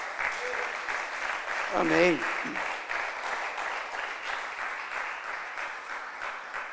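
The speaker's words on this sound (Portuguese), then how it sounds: "Vamos recebê-lo aplaudindo no nome de Jesus" A church congregation claps in welcome, dense rhythmic applause holding steady for several seconds while voices call out briefly over it.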